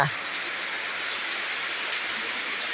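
Steady rain falls at night during a power cut, a constant close hiss of drops on surfaces that stays even and unbroken throughout.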